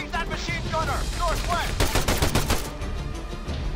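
Gunfire in the military shooter ARMA 3: dense bursts of rifle and machine-gun fire crackle through a busy battle soundscape, with brief radio-like voice fragments and other combat noise mixed in.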